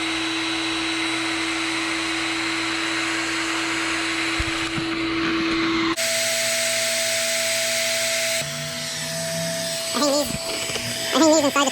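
A powder coating fluid bed blower runs with a steady loud motor whine and airy roar, its pitch shifting partway through, with a few clattering handling noises near the end.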